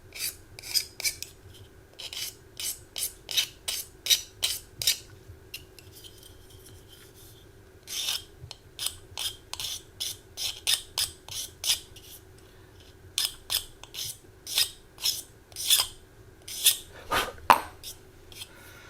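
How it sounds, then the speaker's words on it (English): Close, repeated scraping strokes on the plastic wing joints of a 1/72 scale Academy Spitfire model kit, sounding as quick rasping bursts in irregular runs with short pauses between groups, fairly faint and without talking. "I'm just going to have to do a bit more scraping on these wing joints."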